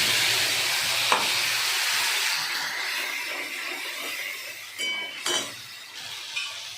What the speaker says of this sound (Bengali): এবার আমি তেলের মধ্যে তেজপাতা, শুকনো লঙ্কা দিয়ে টমেটো আর আদা বাটাটা দিয়ে দেব